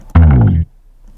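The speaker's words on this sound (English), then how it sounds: "We also have this bass one shot which pitched down" A pitched-down bass one-shot for an electronic track's drop: one deep, sustained tone with a brief attack, holding about half a second before cutting off cleanly, leaving near silence.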